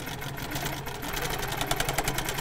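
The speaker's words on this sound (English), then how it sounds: "I'm going to go around" A sewing machine stitches quilting circles guided by a Big Swiss Cheese ruler template. It gives a steady, rapid mechanical whirring and ticking close by, with a rhythm that speeds up slightly toward the end and no talk over it.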